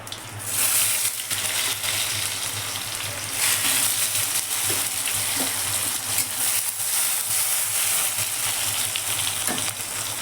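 Bay leaf, cumin, cardamom and chopped onion fry in hot oil, a dense steady sizzle that holds close and even throughout with occasional faint clicks of stirring.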